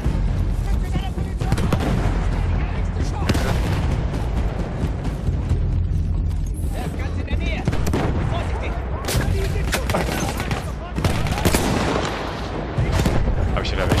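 Battlefield 1 combat: dense, continuous gunfire and explosions roar without pause, loud and close throughout, with a voice speaking underneath at times.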